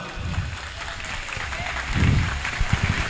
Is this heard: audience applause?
yes